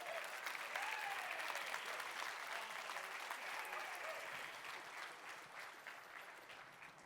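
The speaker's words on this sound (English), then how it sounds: "Please give a big round of applause for every single one of the sponsors that was part of this show" A conference audience applauds the event's sponsors with sustained clapping and a few cheers, loud at first and gradually tapering off.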